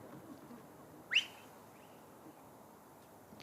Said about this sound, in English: He's whistled from the crowd, and all the players immediately turned around to have a look and see who it was.